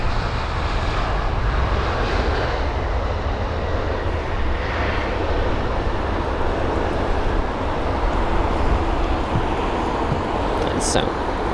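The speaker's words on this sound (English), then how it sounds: "the A320 Neo with the reg Golf Tango Tango November Sierra, which is taking the passengers from Glasgow to London Heathrow" Airbus A320neo airliner on British Airways flight from Glasgow at London Heathrow, its engines giving a steady, moderately loud rumbling roar throughout with no break.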